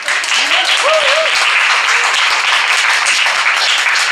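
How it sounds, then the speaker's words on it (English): Audience applause at a community radio women's forum, dense steady clapping that fills the whole stretch, with a voice speaking over it at the start. "let's clap for them, everyone"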